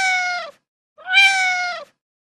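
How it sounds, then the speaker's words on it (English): A cat meows twice, two clear, tonal, drawn-out calls separated by a short silence, the second slightly louder and rising at its start, close and alone with no other sound. "The only sound she makes is meow."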